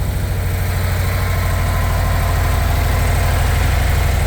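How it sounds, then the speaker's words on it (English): A motorcycle engine idles just after starting, giving a steady, close, even low rumble with a fast regular pulse and no talking. "Okay, and the motorcycle is running."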